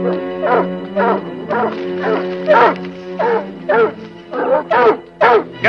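Several dogs bark repeatedly in a steady rhythm outdoors, loud and close, with yips among the barks and no speech over them.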